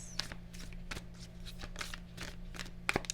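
A deck of Moonology oracle cards is shuffled up close, a series of quick crisp riffling bursts in uneven rhythm, with no talking.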